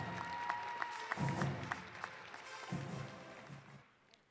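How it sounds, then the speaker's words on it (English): A gathering at a high school signing day in Garland applauds Rowlett High School student athletes, a moderate room-filling patter of clapping with a few louder claps and some voices, tapering off at the end. "let's have another round of applause for our student athletes from Rowlett High School"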